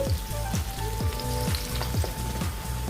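Sliced onions sizzle steadily in hot oil in a pan, a dense continuous crackle and hiss with a few utensil taps, close and unbroken with no talking.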